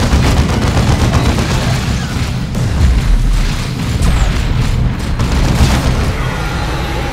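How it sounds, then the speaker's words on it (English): Plasma cannon fire and explosions in Dawn of War 2, a dense barrage of booming blasts and rapid gunfire rolling on continuously at high volume. "Now I have to be very careful with this plasma cannon"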